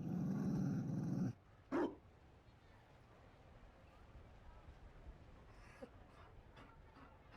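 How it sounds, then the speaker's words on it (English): A Mabari dog in the video game Dragon Age Inquisition growls loudly and steadily for about a second, then gives one short sharp bark. A quiet ambient bed follows with a few faint distant sounds. "You found a dog."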